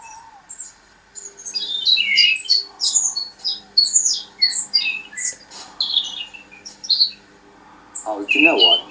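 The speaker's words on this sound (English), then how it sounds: "I'm hearing lots of bird life." Garden birdsong fills the air with many bright, rapid chirps and trills in repeated bursts, fairly close and clear over a quiet background, with a brief low rustle near the end.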